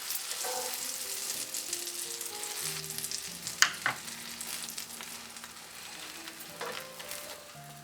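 Bread slices fry in butter with mustard seeds on a pan for a veg sandwich, a steady close sizzle with crackling pops, one sharp clink partway through and a few soft scrapes, with no one talking.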